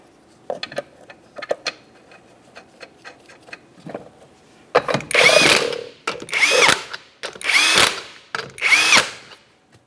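A power tool spins 19mm lug nuts onto the rear wheel of a 1994-1997 Honda Accord after a brake job. Light clicks and taps come first, then four loud, close whirring bursts in a steady rhythm, with no talking.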